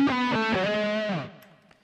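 A distorted electric guitar plays a short, buzzy, harmonically rich phrase that slides down and fades out.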